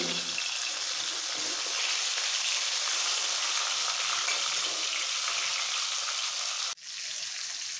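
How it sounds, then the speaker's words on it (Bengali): Pieces of hilsa fish fry lightly in hot oil in a pan, giving a loud, steady, dense sizzle that holds throughout and briefly dips just before the end. "মাছ ভাজা হয়ে গেছে, এরকম হালকা লাল করে ভেজে নিয়েছি"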